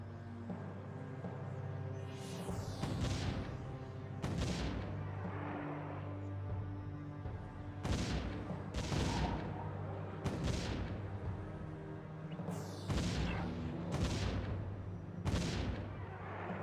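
Cannons fire in the tower-defense game Defense Grid in a series of sharp booming blasts, some in quick clusters, over a steady synthetic game hum with no talking.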